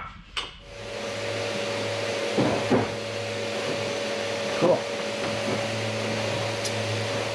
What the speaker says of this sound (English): I don't know if you can hear in the background, but he's got the sander going.